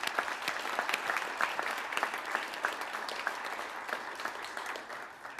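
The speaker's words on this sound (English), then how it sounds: "I think that's an individual applause" Dense, sustained clapping from an audience at a high school prize giving ceremony, honoring an individual prize winner; steady crowd applause that tapers slightly at the end, with no talking.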